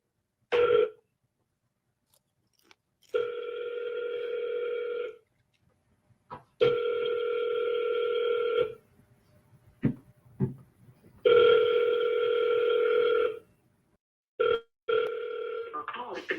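An outgoing telephone call rings back in repeated electronic tones, several long ringing bursts separated by silences, with brief clicks and short fragments in between.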